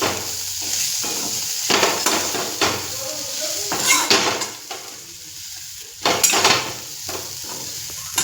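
Ingredients mixed in a pan with a metal spoon, giving repeated scraping clinks and knocks against the pan over a soft background sizzle, close and steady, with no talking.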